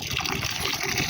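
Water pours and splashes steadily at a small village water point, a loud, close, continuous gush with no pauses.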